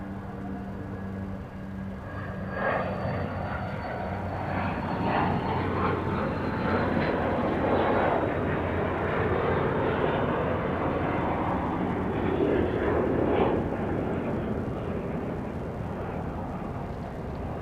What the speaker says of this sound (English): Here's the Cessna.